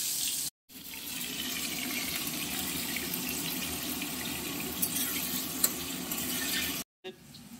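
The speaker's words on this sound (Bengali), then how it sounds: "এঁচোড়ের জন্য আলুটা ভেজে নেওয়া হচ্ছে" Cut potatoes with a little salt fry in hot mustard oil, giving a steady, close sizzling hiss that runs almost unbroken, with two brief silent cuts near the start and end.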